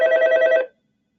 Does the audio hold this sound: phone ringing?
yes